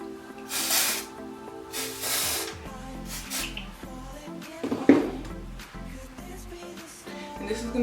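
Hairspray hisses onto styled hair in two long, close bursts followed by shorter spritzes, with soft handling noises and quiet pauses between sprays.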